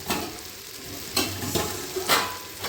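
Chicken biryani masala with cinnamon, cloves, coconut oil and ghee stirred in a pot: a dense, close sizzle with several distinct scrapes of the spoon across the pot base, no voices.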